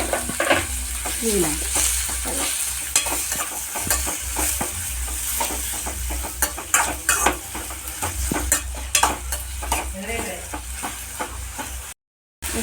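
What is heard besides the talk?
tomatoes being added and fried in a pan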